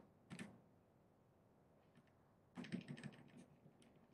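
Two short bursts of computer keyboard key presses, the delete key tapped repeatedly, quiet and close with a silent gap between them.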